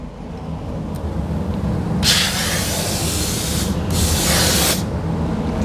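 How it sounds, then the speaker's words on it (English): Two bursts of fine Mopar rust-proofing aerosol spray onto a car's bottom seam hiss steadily, each lasting a couple of seconds, over a low mechanical rumble. "we're going to spray that bottom seam like we did on the hatch"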